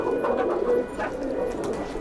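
A pair of Madrasi pigeons coo close by: a soft, continuous low murmur that swells slightly and then holds steady throughout.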